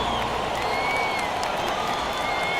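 Crowd applause fills an arena in the basketball video game NBA 2K23, a steady dense clapping wash with no speech over it.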